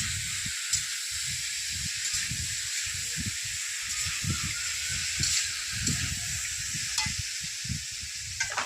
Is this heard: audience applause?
no